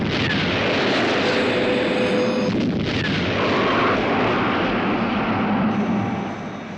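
A science-fiction TV missile launch effect roars loudly and continuously, a dense rushing blast with a faint whine running through it, tapering slightly at the end.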